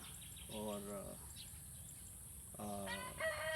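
Two roosters crow in turn, each a short harmonic call, fairly close, with low background murmur between them.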